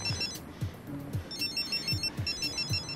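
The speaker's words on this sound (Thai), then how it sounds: "มึงได้ยินเสียงโทรศัพท์เหมือนกูไหมเนี่ย" A telephone rings in a repeating electronic trill pattern, moderately loud and steady across the moment, with no one speaking.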